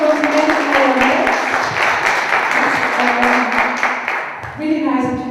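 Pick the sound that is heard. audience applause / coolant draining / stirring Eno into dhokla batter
audience applause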